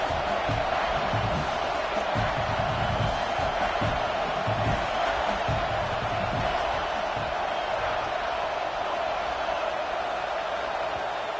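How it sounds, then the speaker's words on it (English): A football stadium crowd roars steadily and loudly before a third down late in the game, a dense, continuous wall of cheering with scattered whoops. "This crowd knows when to bring it."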